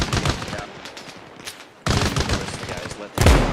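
Gunfire in Arma Reforger, loud bursts of rapid shots in the foreground, broken by a quieter stretch of more distant firing before a final heavy volley.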